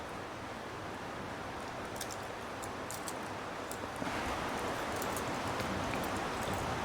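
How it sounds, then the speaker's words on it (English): Steady rain falling outdoors, a soft continuous hiss with scattered drops in the background, growing slightly louder partway through. "So you can hear the rain in the background."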